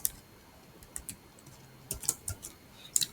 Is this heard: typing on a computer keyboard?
yes